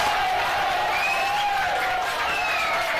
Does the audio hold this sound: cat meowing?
no